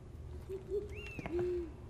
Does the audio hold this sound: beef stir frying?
no